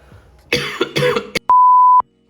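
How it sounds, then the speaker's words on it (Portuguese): A few harsh coughs in quick succession, close and loud, followed by a steady electronic beep lasting about half a second. "Perdão pela tosse"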